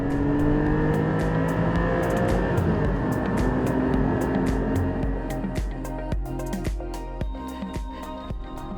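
A Porsche 718 Cayman GT4 engine, heard from the cabin, accelerates hard in a sustained rising roar, then eases off into a lower burble with clicks and ticks on top.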